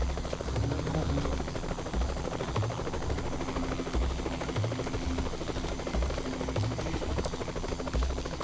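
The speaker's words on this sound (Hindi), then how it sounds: "हेलीकॉप्टर" A helicopter flying overhead in a forest setting gives a loud, continuous rotor chop with a steady rhythmic thudding beating over a dense whine, sustained and close throughout.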